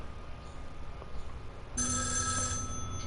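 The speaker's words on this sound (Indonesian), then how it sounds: "angkat telepon ya" A telephone rings loudly in a horror video game, a steady electronic bell tone cutting in abruptly after a quiet stretch of low ambient hum and continuing to the end.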